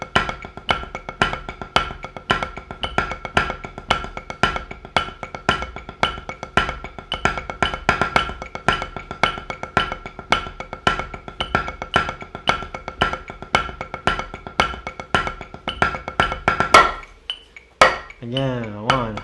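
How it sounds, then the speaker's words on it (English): A metronome ticking under a drum paradiddle groove during a live-stream drum lesson: steady, evenly spaced sharp hits in a dense continuous rhythm, loud and close, ending with a brief pause and a few trailing sounds. "Let's put the metronome on."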